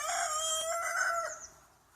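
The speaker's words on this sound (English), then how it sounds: "At the screech of a rooster one morning" A rooster crows once on a farm morning, a loud, close, drawn-out call that rises and then trails away over about a second and a half, heard alone with no talk.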